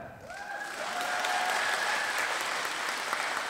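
Steady crowd applause fills a concert hall as a folk satire troupe takes the stage, a dense wash of clapping that swells after the first second and holds evenly, with a couple of faint whistle-like tones rising over it early on.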